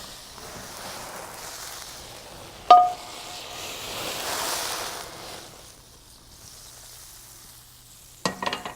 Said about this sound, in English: Now I'm going to season the pan a little bit with some rum.